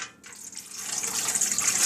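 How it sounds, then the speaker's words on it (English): A quart of water poured into a pressure canner on a stove, a rising splashing gush that grows fuller and louder over about two seconds, close up with no talk. "And I pour in a quart of water."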